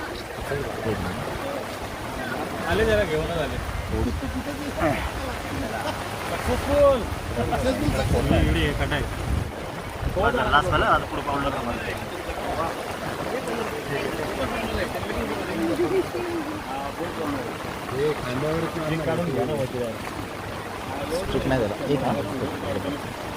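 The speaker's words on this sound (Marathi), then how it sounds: "प्रवाह जास्त आहे प्रवाह जास्त आहे" A river stream in strong flood current, where a young man has been swept away, rushes with a continuous broad roar of water under excited voices and shouting nearby.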